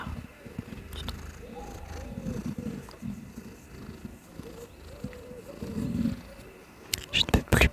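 Pet cats purring outdoors, a low, continuous rumble up close under soft murmured sounds, with a few sharper rustles near the end.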